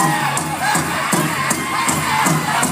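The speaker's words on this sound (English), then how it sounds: "Give him a round of applause!" A crowd at a Harlem Shake dance event cheers, whoops and shouts for a dancer, the noisy clamour riding over a steady thumping beat that pulses throughout.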